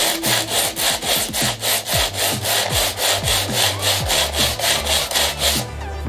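Sandpaper rubs an RC airplane part flat in steady back-and-forth strokes, a rhythmic, close, rasping scrape repeating about three times a second until it stops near the end.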